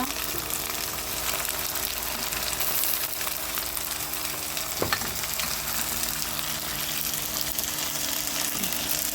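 Chili, ginger and garlic paste fry in a pan for a chicken curry, a dense continuous sizzle with a low steady hum beneath and a single sharp clink midway.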